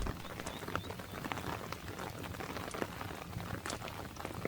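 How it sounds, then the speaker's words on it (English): Steady, soft rain patters continuously on a surface, a dense wash of small drops with occasional louder taps, fairly quiet and unbroken. "It drums gently on the roof and trickles down the stones beside the door."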